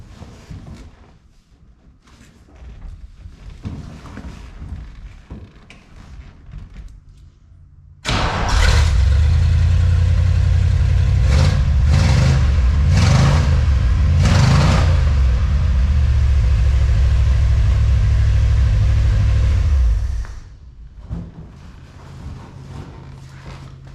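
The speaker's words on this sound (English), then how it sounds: "All right, let's see how our exhaust sounds." A car engine breathes through a homemade junkyard exhaust built from scrap, starting abruptly after a quiet stretch into a loud, rough, boomy drone with revs and pops before cutting back to near silence.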